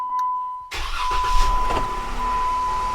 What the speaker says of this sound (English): now you've got the car successfully running with the remote start